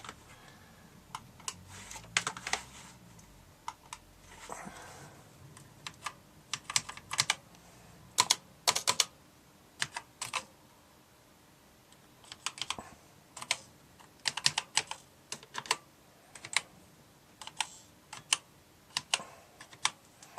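Typing on an Amstrad computer keyboard: irregular bursts of crisp key clicks and clacks, close and fairly quiet, with short pauses between runs of keystrokes and a faint background hum, no talking.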